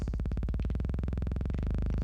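A Synthstrom Deluge synth plays a fast, steady pulsing tone washed in reverb, its pitch climbing gradually over the short span, buzzy and even in level.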